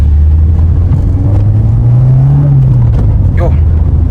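A VW Citi Golf engine revs loud and close as the small hatchback accelerates, a steady droning pitch rising then easing off, with a brief voice near the end.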